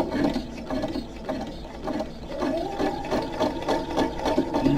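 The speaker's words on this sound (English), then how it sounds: "Put it in my guide. Couple stitches. Two back stitches." Sewing machine making a couple of back stitches on a raggedy journal spine, a steady mechanical whir with rhythmic needle clatter, close and alone.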